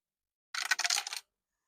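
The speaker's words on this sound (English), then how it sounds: "So let's start with the dice now." Dice rolled onto a hard surface during a coin-saving challenge give a short burst of rapid clattering rattles, close and fairly faint, then stop, with no voices.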